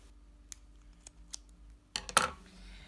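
Scissors snip through crochet yarn while a small unicorn is finished off, a few faint clicks followed by a close, crisp double cut, with no talk.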